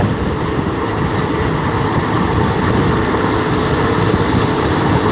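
Steady, loud rumble of a moving train heard from inside, with continuous low-frequency roar and rattling, no talking.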